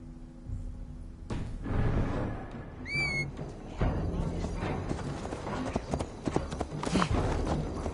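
Horse hooves clip-clop in a Valhalla video game, a quick rhythmic clatter of galloping steps mixed with game effects and a brief whistling tone, no clear speech over it.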